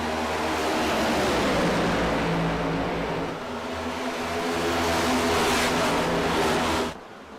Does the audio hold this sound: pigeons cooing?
no